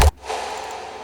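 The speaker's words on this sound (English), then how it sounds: "And what I did is I did a tape stop on this tail." Single deep kick drum hit with its tail pitched down and slowed by a tape stop effect, a brief low thump that drops into a faint, fading rumble, alone without speech.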